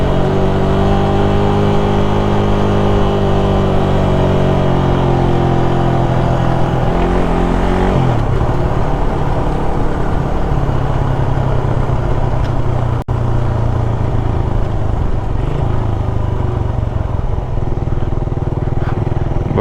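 A motorcycle engine drones steadily and loud as it climbs a mountain road near Bayokbok Falls in Tublay, Benguet, the pitch rising and falling with throttle changes and a brief dip partway through.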